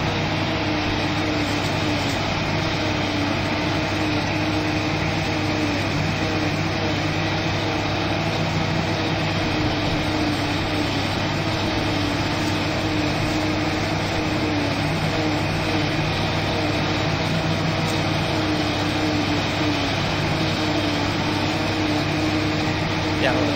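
A corn harvester chopper in Farming Simulator 2013 cuts whole stalks in a field, giving a loud, steady mechanical drone with a constant whirring hum that runs unbroken throughout.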